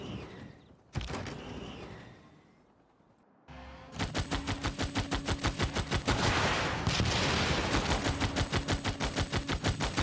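Unit attack gunfire from Civilization 6: after a brief thud and a quiet pause, rapid, evenly spaced shots rattle loudly for several seconds with no voices.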